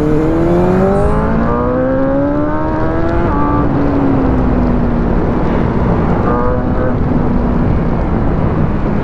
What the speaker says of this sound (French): Et l'échappement il est bien parce que il donne une bonne sonorité